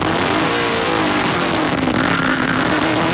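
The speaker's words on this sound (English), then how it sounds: "as he was downshifting through the gears, you hear that little burp, and then you can hear the car chatter under braking" On-board race car at the 2008 NAPA 100, engine loud and close as it downshifts through the gears with a burp, then chatters with wheel hop under braking; continuous engine roar throughout, no talk.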